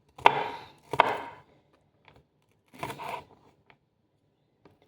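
Knife chopping onions for a chicken curry in a home kitchen, a few scattered bursts of cutting, two close together, then a pause and another, with faint taps between.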